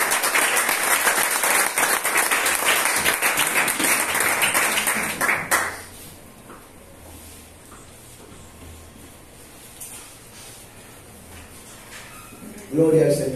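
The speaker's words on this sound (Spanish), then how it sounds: "Un aplauso al Señor." Church congregation applauding during a Spanish-language service, dense broadband clapping filling roughly the first six seconds, then fading to a quiet room with low murmurs and a brief louder noise near the end.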